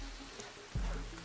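Rain falls in The Forest survival game, a continuous soft patter on surfaces with a low thump partway through, moderately quiet and with no speech.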